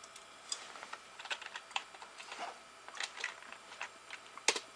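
Typing on a computer keyboard: quiet, close bursts of irregular key clicks with short pauses in between, heard alone without speech.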